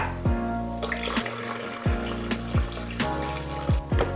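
Warm water pours into a bowl of bread dough flour that includes rye, a steady splashing trickle heard close with a few sharp knocks from the bowl, no talk.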